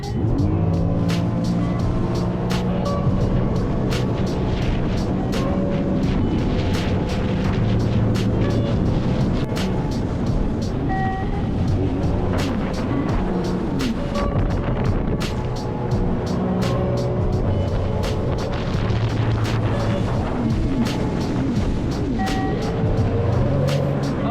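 A Sea-Doo GTI 170 personal watercraft accelerates with a loud, sustained engine roar out on the water, the pitch rising and surging over wind and spray noise as the rider leans back.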